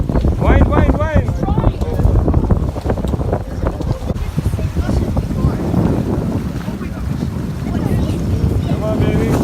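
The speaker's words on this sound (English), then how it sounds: "Wind, wind, wind." Wind buffets the microphone loudly on a boat at sea while fishing for barracuda off Mexico, a continuous rushing roar with engine and water noise beneath; voices talk over it early on.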